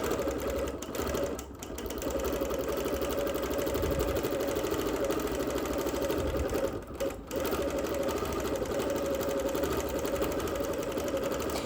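Close, steady whirring and rapid mechanical chatter of a sewing machine quilting through wool, running continuously with two brief pauses, no talk.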